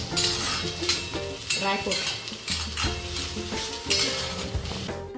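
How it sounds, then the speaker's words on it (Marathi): Peanuts are stirred in a hot pan with a metal spoon for murmura chivda, giving a steady sizzle with repeated scraping and clinking strokes, close and loud, while a voice briefly speaks. "पहिले शेंगदाणे टाकून द्यायचे. शेंगदाणे पण चांगले परतून घ्यायचे."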